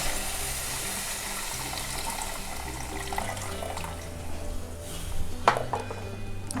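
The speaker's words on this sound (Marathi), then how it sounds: "आता मी ह्याच्यामध्ये अंदाजाने पाणी घालते बघा" Water pours into a pot of egg curry, a steady close splashing gush with occasional clinks of a metal vessel and a sharper knock near the end.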